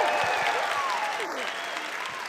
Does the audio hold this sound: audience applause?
yes